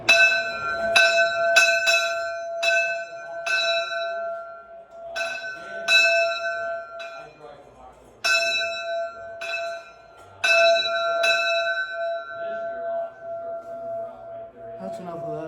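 A train bell rings repeatedly with bright metallic strikes, the rhythm uneven and catching in places with pauses between clusters, its tone sustained and ringing throughout.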